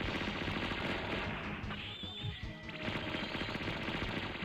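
Dense, continuous rapid-fire shooting from the Vita shoot-'em-up Vasara Collection, a loud unbroken barrage of bullet sounds that dips briefly midway before resuming at full intensity.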